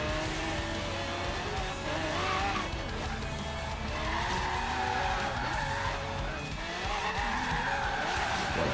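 A van in Forza Horizon 3 drifts sideways through a corner, its tires squealing in long wavering screeches over a steady engine drone, loud and continuous throughout.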